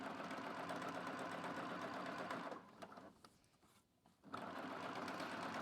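A Baby Lock coverstitch sewing machine runs a chain stitch: a steady, fast mechanical whirr close by, briefly slowing and nearly stopping before resuming at full speed.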